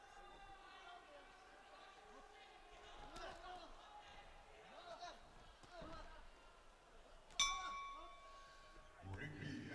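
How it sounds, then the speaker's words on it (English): A boxing ring bell ends the final round at a 54kg bout at the AIBA World Championships 2021: one sharp, ringing clang late in the clip over crowd noise and commentary, with the tone lingering briefly. "There goes the bell."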